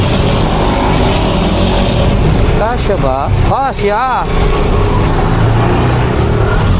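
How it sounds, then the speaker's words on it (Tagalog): Busy street traffic in Malabon City with cars and other vehicles, a steady loud rumble throughout, while people talk over it. "Traffic pa oh."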